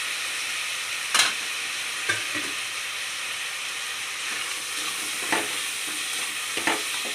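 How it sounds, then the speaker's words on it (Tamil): Green chillies sizzle in a frying pan while cooking for cauliflower 65 biryani, a steady loud hiss of hot oil broken by a few sharp clacks of stirring. "பச்சை மிளகாவும் போட்டுடலாம்"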